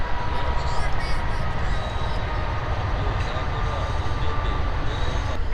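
Train rolling past on tracks near a timber site, a continuous loud rumble and rattle of wheels and cars lasting throughout, with faint higher squeals on top.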